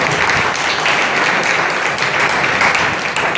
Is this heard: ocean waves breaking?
no